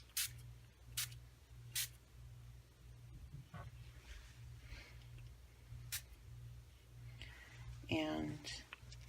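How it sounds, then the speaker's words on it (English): Short hissing bursts of spray over paper card embellishments for a crackle paint card, several quick separate blasts, faint and close, with soft handling noise and a voice near the end. "I want my embellishments right now to be sprayed as well"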